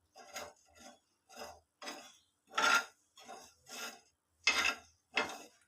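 Chaat masala spices being dry-roasted in a pan, heard as a series of about nine short, dry scraping strokes in a steady rhythm, close and fairly quiet with brief silences between strokes.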